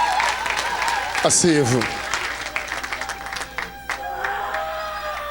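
A church congregation applauds and cheers in a dense, sustained burst of clapping that fades into scattered claps, while a preacher speaks over it.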